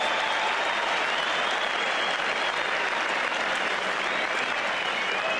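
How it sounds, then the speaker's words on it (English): A cricket crowd at a Test match in Brisbane between Australia and the West Indies applauds a batsman reaching his fifty. Broad, even clapping carries steadily from a distance for the whole stretch. "And applause for Marsh and Strader's 50."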